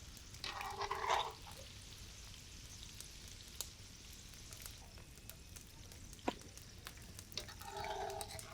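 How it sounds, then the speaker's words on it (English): French fries frying in hot oil, a steady low sizzle and crackle that runs throughout, with a few brief louder bursts of bubbling near the start and end. "As a side dish, we make French fries. We fry them until golden brown."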